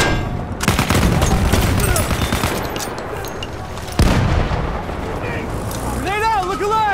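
Battlefield 1 combat with rapid gunfire bursts and loud explosions, including a big blast midway, dense and close, with shouting voices and callouts over the fighting.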